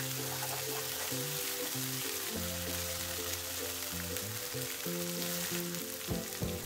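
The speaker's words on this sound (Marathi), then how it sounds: "त्याला तेल सुटेपर्यंत फिरवत राहावे।" Soya chunk gravy masala fries in oil in a pan while being stirred, giving a continuous sizzle under steady background music.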